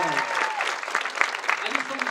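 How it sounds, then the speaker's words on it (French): An audience at a conference with the French voice cast of The Lord of the Rings applauds the actors. Brief, dense clapping mixes with a speaking voice. "nous pourrons commencer à applaudir tous nos comédiens qui sont là"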